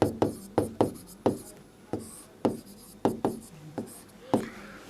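Chalk or marker strokes scrape and tap across a classroom board, a quick irregular series of short scratchy marks, close and clear, with brief quiet gaps between strokes and no talking.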